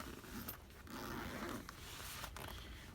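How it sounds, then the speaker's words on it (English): A zipper is undone on the fabric carrying case of a Maxi Scan MS509 OBD2 code reader, giving a few seconds of close, continuous raspy scraping with small bursts and creaks. "The zip opens up"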